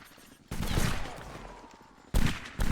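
Rifle gunfire in a multiplayer video game set among 95th Rifles: a loud, dense crackle of several overlapping shots, then two more sharp bursts near the end.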